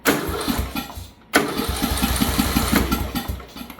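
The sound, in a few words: Bolens lawn tractor engine cranking but failing to start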